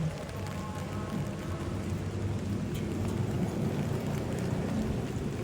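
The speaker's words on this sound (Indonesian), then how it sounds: "Suara hujan masih kedengaran sangat kuat, sangat kencang." Steady, dense rainfall pours down without letup, a broad wash of hiss and patter with a low rumble beneath it.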